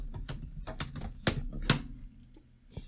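Rapid, uneven clicking of a computer keyboard being typed on fast, with sharp key strikes close by and no talking.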